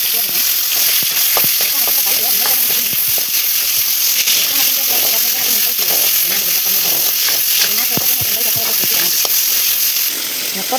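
Oil sizzles steadily in a pan while fish curry with potatoes and beans is cooked in a village kitchen; the frying hiss stays loud and constant throughout, with occasional clatters and stirring, and no voice.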